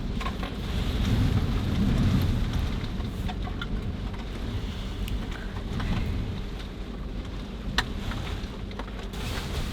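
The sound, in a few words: wind and rain outside a camper van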